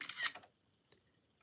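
A remote camera shutter clicks, a quick crisp cluster of mechanical snaps followed by one lighter click, close and quiet with no talking.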